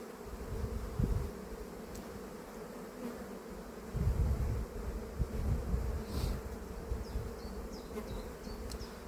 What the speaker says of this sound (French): Moi, je gêne les abeilles.